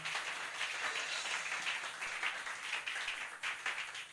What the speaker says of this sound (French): Acclamons très fort notre Dieu